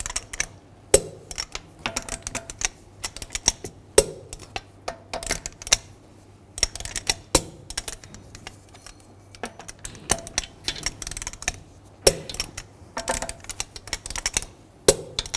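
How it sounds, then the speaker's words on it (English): Torque wrench tightening the wheel lug bolts on a 2006-2010 Volkswagen Jetta in a cross pattern, with repeated sharp close clicks and ratcheting snaps coming in irregular bursts with short pauses between bolts. "Now I'm going to use the torque wrench and torque the lug bolts to 89 foot-pounds in a cross pattern"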